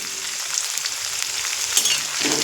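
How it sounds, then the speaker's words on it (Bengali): Potatoes fry with salt and turmeric in a pan, a continuous close sizzle with soft irregular stirring scrapes and no voices. "দিয়ে আবার কিছু সময় ভেজে নেব"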